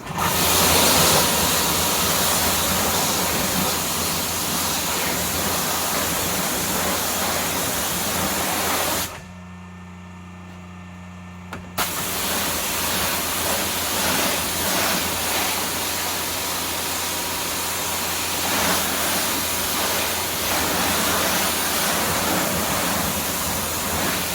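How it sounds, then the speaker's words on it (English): A constant rush of water pouring out of the front grille of a 2024 BMW M3 Competition during washing nearby, loud and steady, briefly dropping away for a couple of seconds before resuming. "you can see the water coming out of the grill."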